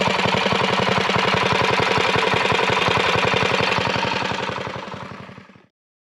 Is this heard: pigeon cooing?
no